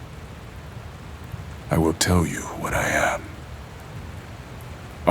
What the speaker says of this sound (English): The rain was growing steadily stronger.